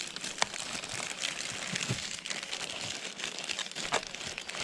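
A plastic bag over newly sown vegetable seeds crinkles and rustles in the wind, steady and close, with scattered sharper crackles throughout and no voices.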